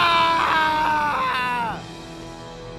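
A man screams loudly and in anguish, trapped as cave walls close in around him in a dramatized story, a strained wailing cry that falls in pitch and cuts off after nearly two seconds, leaving a quieter background.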